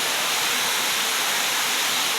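Waterfall at Haba-haba Falls, with water splitting into three branches and churning in the pool below, pours in a steady, loud broadband roar that fills the whole clip with no voices.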